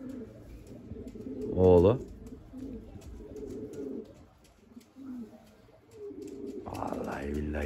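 Young homing pigeons give a brief, fairly loud cooing call near the start, while someone talks through most of the outdoor scene and more bird sounds rise near the end.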